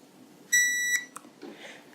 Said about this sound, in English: and it will beep at you when it's done.